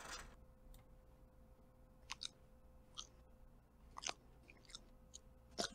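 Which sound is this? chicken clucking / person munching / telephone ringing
person munching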